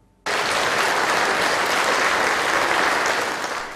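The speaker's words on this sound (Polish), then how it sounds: "Tak brzmią brawa w wypełnionej po brzegi sali kina Etiuda." Applause fills a packed Etiuda cinema hall, starting abruptly and holding as a loud, dense wash of clapping that eases only slightly toward the end.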